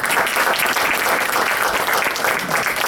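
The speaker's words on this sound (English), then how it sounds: "I think they deserve a thunderous round of applause" An audience at a birthday celebration gives a loud, sustained round of applause, dense steady clapping filling the hall without pause.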